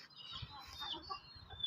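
Hen clucking among backyard fowl, a steady low run of soft clucks close by with faint bird chatter above.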